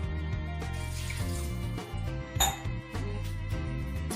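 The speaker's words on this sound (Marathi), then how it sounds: "पाणी ऍड करायचं" Water is poured into a pressure cooker holding washed mutton and salt, a short splashing burst over steady background music.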